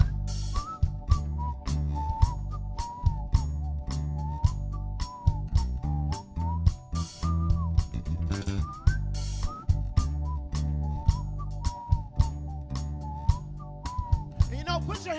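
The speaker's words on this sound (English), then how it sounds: "Whistle along with me now." Whistling at a live blues concert, a high melodic line carried over a steady groove of drums and bass, with rhythmic percussive hits and faint crowd voices.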